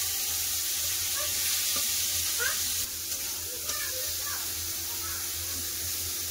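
Bitter gourd pieces sizzle and crackle steadily in hot oil, a low continuous frying hiss with a few scattered pops and a brief stir midway, fairly quiet and without talk.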